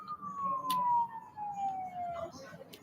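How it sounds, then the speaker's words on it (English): An emergency vehicle siren passes outside, a single falling wail sweeping steadily downward over about two seconds, moderately loud against a low background hum. "y'all heard that siren?"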